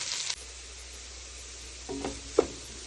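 Carrots stir-fried in a pan give a faint, steady low sizzle, with a couple of soft scraping stirs and a sharp clink near the end.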